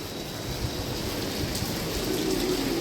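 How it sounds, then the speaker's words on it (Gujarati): Heavy monsoon rain pours over the sea at Vizag, making a dense, steady roar of falling water that fills the whole stretch without a break or any voices. "કેટલા આમ તો જો દરિયામાં વરસાદ પડી રહ્યો છે"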